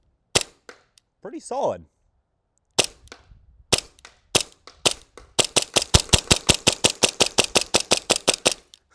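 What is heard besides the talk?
airsoft gun firing shots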